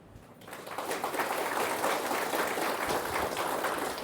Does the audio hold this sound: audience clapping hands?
yes